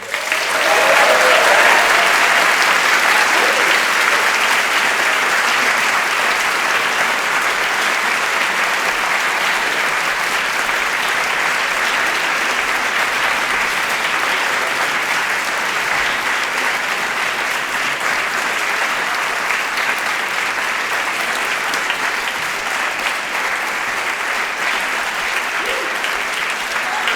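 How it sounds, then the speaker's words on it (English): A large audience gives the First Minister a long, sustained round of applause, dense even clapping that fills the hall without letting up. "give the First Minister one final round of applause"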